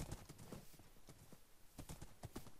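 Horse hooves clip-clop in Minecraft Blitz SG, ridden by horse tamers, a quick uneven run of hoofbeats close by; no neigh stands out clearly.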